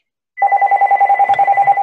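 A telephone rings during a board meeting with a rapid electronic trill, a fast regular pulsing tone, loud and close, starting abruptly after a short silence.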